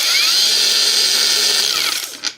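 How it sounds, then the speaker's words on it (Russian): A Heimerdinger LB184 cordless angle grinder with display runs at first speed, a loud steady high-pitched whine with no talk, then spins down near the end. "Итак, включилась болгарка на первой скорости."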